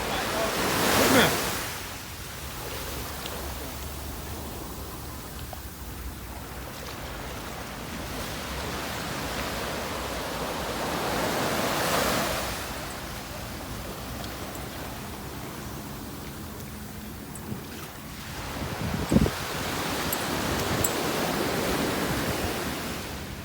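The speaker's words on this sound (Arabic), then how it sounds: "قربوا كده شوية كده وسمعوني مع صوت البحر" Sea waves at Alexandria, Egypt, surge and wash in a broad steady roar, with several louder breaking swells near the start, middle and end, plus brief splashes, close to the microphone and heard without talk.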